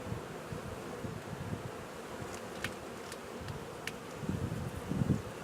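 Honey bees buzzing around an open eight-frame hive, a dense low droning hum with occasional closer wingbeats passing by, steady outdoors with faint wind.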